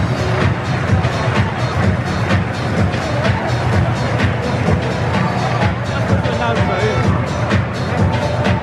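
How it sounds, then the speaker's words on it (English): Football stadium crowd cheering as the Sky Bet Championship champions are welcomed, a steady, loud roar of many voices that holds unbroken across the stretch, with announcer-style speech blended in. "There's a cheer."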